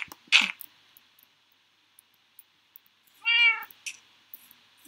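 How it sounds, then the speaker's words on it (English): A cat meowing in a video game: two short, clear meows separated by a quiet gap, close and alone against near silence, with a few faint clicks between. "You're a cute little cat, aren't you?"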